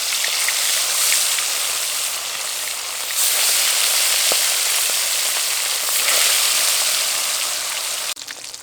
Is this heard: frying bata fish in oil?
yes